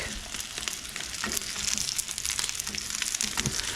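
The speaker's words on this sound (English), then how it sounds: "we're really gonna sear this steak" Steak searing hard in a hot pan, a dense crackling sizzle that stays loud and continuous, with bursts of spitting fat throughout.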